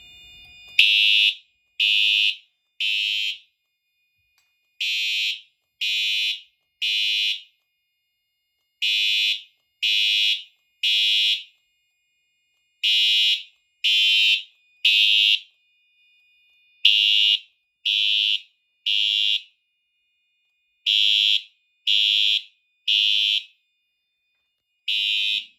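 A loud, piercing fire alarm blares in repeated bursts of three, with short pauses between each group, continuing steadily with no voices, during a fire alarm system test triggered from a pull station.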